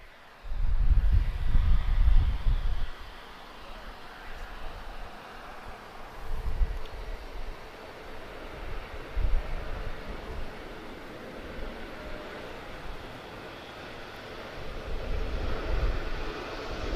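An Airbus A330neo jet taking off on the full runway at Lisbon Airport: a distant, low, rumbling engine roar that swells and fades, mixed with wind noise, with no talking.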